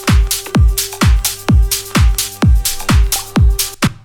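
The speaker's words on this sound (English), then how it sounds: "I do have some vocal drones playing along with the drums," A sustained, droning vocal tone holds underneath a pounding electronic kick beat, loud and steady, with the music cutting off at the end.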